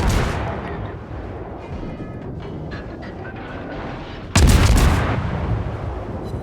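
In World of Warships, the Bismarck's secondary guns fire in a rapid, uneven series of loud booms and cracks, with a heavier blast near the end, amid game noise and some faint talk.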